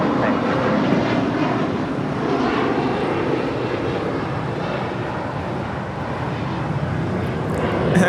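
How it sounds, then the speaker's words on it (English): United Express Embraer E175 jet departing Los Angeles International Airport bound for Reno, Nevada: a loud, steady broadband engine roar held close and constant throughout, with a voice faintly underneath. "United Express 5696 departing to Reno, Nevada on an E175"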